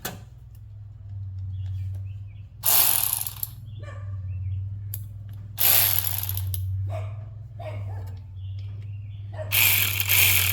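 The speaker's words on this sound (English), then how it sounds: "my ratchet's about wore out" Worn-out ratchet being cranked on a Chevy 283 engine during teardown, three bursts of rapid clicking separated by pauses, close and clear over a low steady hum.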